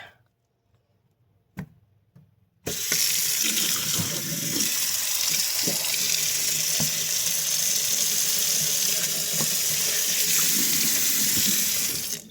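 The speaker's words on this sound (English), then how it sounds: "Let's run boiling hot water" After a couple of soft knocks, hot water gushes from a sink faucet into a basin with a garbage disposal, a loud, steady rushing splash that continues without a break.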